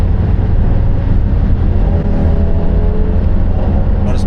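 Toyota 79 Series with a 4-cylinder engine accelerating hard to pass a truck, a loud continuous low engine drone and road rumble from inside the cab.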